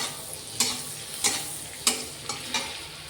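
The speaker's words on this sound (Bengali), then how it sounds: "কাঁচা লঙ্কা, অল্প করে একটু নাড়াচাড়া করে নেবো।" Green chilies stirred in a hot pan, with a faint steady sizzle broken by four sharp spatula scrapes spaced about half a second apart.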